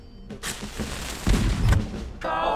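Explosions and blasts in the driving game What the Car? on PC, a loud burst of rumbling booms building to a heavy low thud mid-clip, followed by a bright synthetic game tone.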